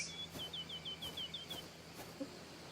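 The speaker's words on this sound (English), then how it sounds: "Hear the birds singing." In the cozy simulator game Garden Life, a small bird's quick repeated chirping trill plays, faint and clear over a quiet ambient background.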